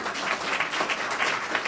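Someone speaker at a gathering draws dense, steady applause from the audience, continuous clapping filling the room at a loud, even level without pause.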